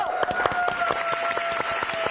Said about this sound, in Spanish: Muchachos, aplausos.